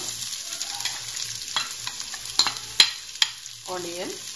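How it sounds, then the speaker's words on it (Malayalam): Garlic and onion sauté in a hot pan, giving a soft sizzle broken by scraping stirs and a few sharper clinks of a utensil on the pan, close and without speech. "അതൊരു 30 seconds ഒന്ന് സോട്ട് ചെയ്യുക. അതായത് നമ്മൾ ഓണിയൻ ഇടുക."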